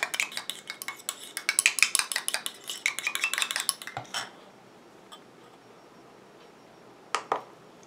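A small utensil stirs cosmetic ingredients for a lash and brow serum in a container, with rapid close clinking and tapping for about four seconds, then near silence broken by a couple of faint taps.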